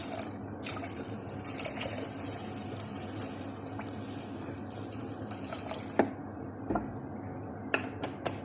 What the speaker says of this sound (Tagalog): Maglalagay na ako ng tubig guys